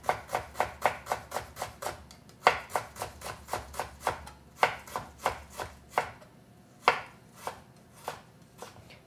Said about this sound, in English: I like to cut ginger.